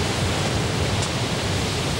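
A cartoon waterfall roars as a dense, steady rush of water, loud and unbroken throughout, heard alone with no voices.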